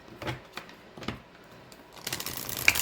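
A few separate riffling bursts of a new tarot deck being handled, then a longer, louder run of rapid crisp flutters as the cards are shuffled close by.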